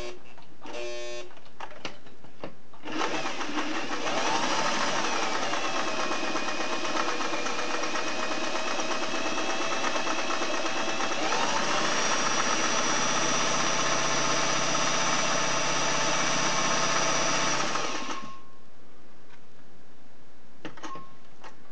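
A Singer 503A slant-needle sewing machine stitches with a pattern cam fitted, running in one long, steady, close whirring burst of about fifteen seconds, preceded by a few short starts and clicks.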